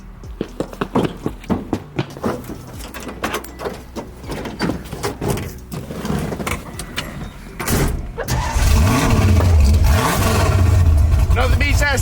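People talk over idling noise, then a Ford Mustang engine revs into a loud, sustained roar that stays close and powerful.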